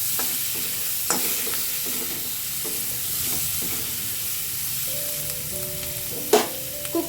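Mushrooms seasoned with salt and black pepper sizzle steadily in a pan for mushroom chilli, with a constant frying hiss, a few sharp stirring scrapes and clinks, and a faint tonal hum underneath.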